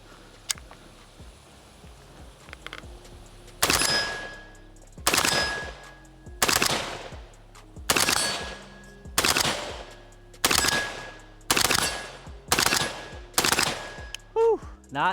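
Krebs M23 AK rifle firing 62-grain rounds at a target 35 to 40 yards away, about ten loud, sharp reports spaced roughly a second or more apart, each with a ringing decay, close to the microphone.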